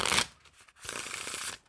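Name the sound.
riffling playing cards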